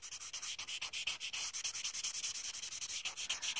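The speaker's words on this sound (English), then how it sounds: "the idea is to use the end of the roll to rub and blend your pastels together" A rolled paper blender rubbing and blending pastels on paper, a steady close scratchy rasp with quick back-and-forth strokes and no talking.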